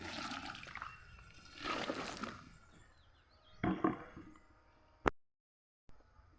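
Eggplant and chili plants in a garden are watered from above, with splashing and pouring water in bursts, a brief trickle, then a sharp knock before near silence; close and moderately loud, no talking.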